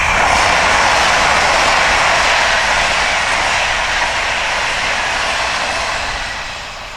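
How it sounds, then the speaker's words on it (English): An LNER Azuma Class 801 high-speed train on a King's Cross to Edinburgh service rushes past on the East Coast Main Line, a loud, continuous broadband roar that holds steady for several seconds and then eases off as it moves away. "up next is 1 Sierra 12 LNER Azuma"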